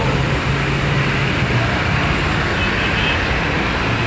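Steady morning road traffic rumbles on without a break, a dense broadband wash of passing cars and heavier vehicles with a low engine drone, fairly loud and continuous, and no one speaking.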